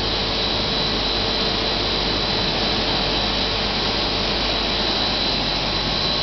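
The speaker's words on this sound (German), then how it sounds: "da unten ist das große Gebläse auf der rechten Seite" A large blower fan in a waste-to-energy plant moves flue gas with a loud, steady, unbroken roar that holds level throughout, close and alone.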